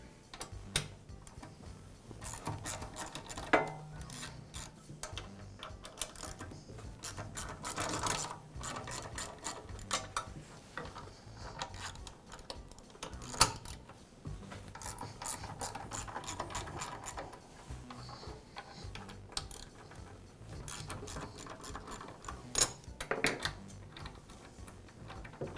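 A DeWALT air compressor cylinder head is worked loose with a hand ratchet, giving close, steady clicking and metallic ticks with brief pauses, quiet and with no talk.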